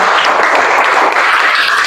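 Classroom applause for a student presentation group, steady dense clapping from many hands filling the whole span at a fairly loud level, with no voices standing out.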